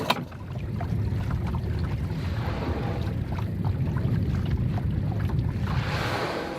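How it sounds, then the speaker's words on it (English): Boat motor starting and running on open sea during a whale watching trip, a steady low rumble mixed with water wash and wind buffeting on the microphone, with no talk. "We're going to start the motor here and go check that out"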